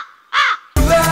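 A loud, close crow caw used as a comedy sound effect: one harsh, nasal call followed almost immediately by a rougher, noisier burst of cawing.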